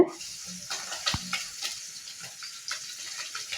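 Sardines frying in hot oil give a steady close sizzle, with a few louder spatters and pan scrapes breaking through and no talking.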